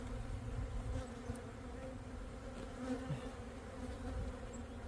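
Honeybees in an opened backyard apiary hive hum in a dense, continuous buzz, close and steady, with single bees droning past now and then.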